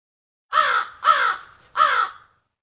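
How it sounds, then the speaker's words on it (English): Three loud, hoarse caws from a crow, evenly spaced and close, each with a rough, grating edge, heard alone. "Crow."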